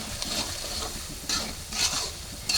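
Potatoes, salted and tinted with a little turmeric, fry and are stirred in a pan, giving a steady low sizzle with a few brighter scrapes of stirring and no talk.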